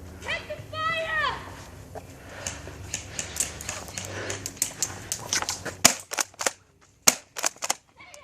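Airsoft guns firing in a backyard game, sharp snapping shots in quick bursts that grow sparse and crisp toward the end, with people talking and shouting over the first part.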